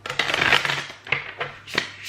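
Tarot cards slip and scatter during a shuffle, a rustling, clattering spill of card noise followed by a few sharp slaps and ticks of cards landing, close and fairly loud.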